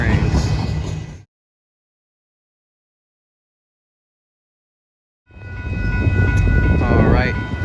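A BNSF freight train passes a road crossing, giving a steady rumbling roar that cuts out into silence for several seconds, then returns with tonal horn-like notes near the end while a voice talks over it.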